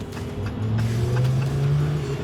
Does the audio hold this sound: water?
no